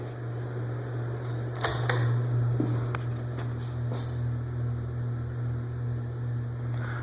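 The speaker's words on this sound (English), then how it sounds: "the hum might not be so bad if it wasn't in a bathroom where everything resonates" A steady low electrical hum from a bathroom ceiling fan drones throughout, with a few faint clicks and knocks over it, in a resonant small bathroom.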